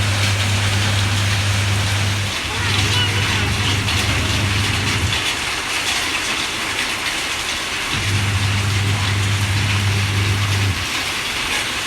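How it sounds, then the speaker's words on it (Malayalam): Heavy rain pours outside, heard from indoors as a steady broadband hiss, with a low mechanical hum that switches on and off over it. "നല്ലൊരു അടിപൊളി മഴ പെയ്യുന്നുണ്ട് കേട്ടോ പുറത്ത്"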